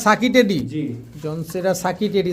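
Pakistani royal teddy pigeons, a large breed, coo in short rolling bursts close by, with people talking over and between the calls.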